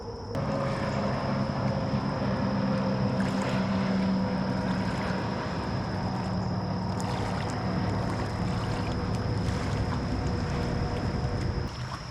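A steady motorboat engine drone runs throughout, loud and close, with a whining tone and wind noise, the boat circling near anglers fishing from the bank.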